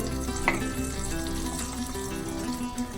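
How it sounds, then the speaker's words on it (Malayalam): Butter melts and sizzles on a hot tawa for pav bhaji, a steady close-up crackle and hiss with a few faint clinks, and no one talking. "നമ്മുടെ തവ ചൂടായി കൊണ്ടിരിക്കുകയാണ്. അവിടെ ബട്ടർ ഇതിൽ വെച്ച്"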